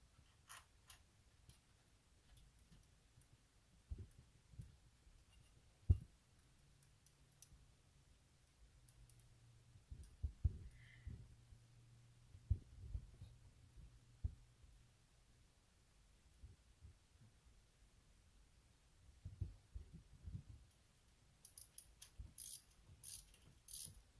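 Ratchet turning oily bolts during cam replacement on a 2006 Dodge Charger 5.7 Hemi engine, faint scattered clicks and mechanical ticks in a quiet garage, with occasional louder knocks.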